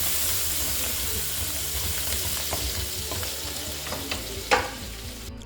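Chopped garlic and green chillies frying in oil, a dense, steady sizzle with faint stirring scrapes and one brief louder clink near the end, close and without any voices.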